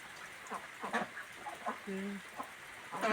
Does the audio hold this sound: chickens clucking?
yes